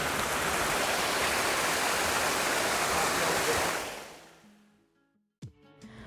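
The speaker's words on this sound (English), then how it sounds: "who doesn't love a good water trickling ambiance?" Creek water beside a hiking trail rushes steadily and fairly loudly, then fades out to near silence, followed by a brief knock and faint sounds.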